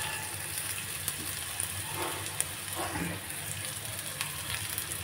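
Onion frying in a pan gives off a steady, soft sizzle that crackles continuously, faint and close, with no voice over it.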